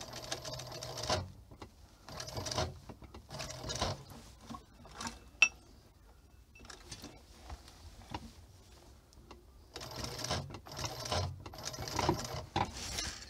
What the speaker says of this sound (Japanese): こうして、だってこれこんなゆっくり縫ってるけど、手縫いで縫えてたらすっげえ時間かかるぜ。